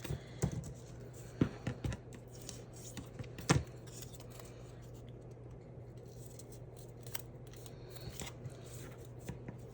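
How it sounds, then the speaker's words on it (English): Scored cardstock for a mixed media Christmas house being folded by hand, giving soft, close crinkles and creases with a few sharper snaps early on over a faint steady hum. "Fold along all my score lines."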